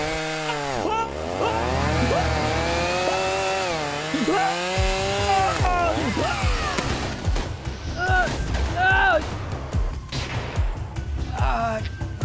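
Chainsaw in the video game GTA 5, revving with a loud, rising and falling whine that mixes with game sounds, later choppier bursts and clatter, with voices heard in places.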